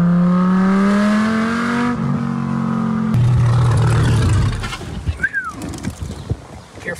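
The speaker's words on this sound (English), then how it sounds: "This is the last naturally aspirated V10." A naturally aspirated V10 car engine revs on a race course, with a loud, steady droning tone for about three seconds that gives way to a rougher roar, then fades as a bird chirps briefly.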